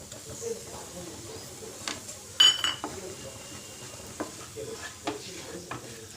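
Gram flour (besan) roasting in a pan for mixed-flour winter ladoos, with a soft steady sizzle and occasional stirring scrapes and clinks, one sharper utensil knock near the middle; quiet and close.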